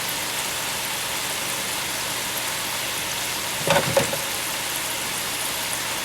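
A batch of homemade French fries bubbles and sizzles in hot frying oil, a steady close crackle with a brief louder clatter near the end, and no voices.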